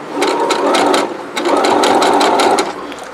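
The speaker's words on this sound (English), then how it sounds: "I'm gonna go to the sewing machine and find out how this Brother sewing machine can tackle this" A Brother computerized sewing machine hemming light-duty denim runs in two rapid bursts of stitching, a close, busy mechanical chatter with a short pause between.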